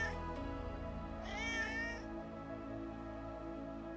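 A cat meows once in the Alchemist video game, a clear rising-and-falling cry over a steady low droning background, no talk present.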